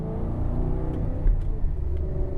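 A Maserati with a freshly replaced clutch driving on the road, its engine a steady low rumble with a brief swell of revving, heard from inside the car.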